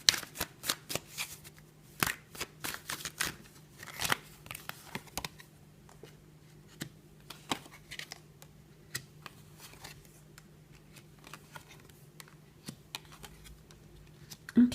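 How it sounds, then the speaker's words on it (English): Tarot cards are shuffled and dealt onto a table: a long run of crisp, close slaps, flicks and papery riffles with uneven rhythm, some quick bursts and quieter gaps, no voice over them. "I now want to lay out some cards to see how a relationship could be with this person."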